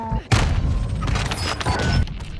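Gunfire in the game Call of Duty: Warzone breaks out as one sudden loud blast, then a dense, sustained stretch of shooting and explosions that cuts off abruptly.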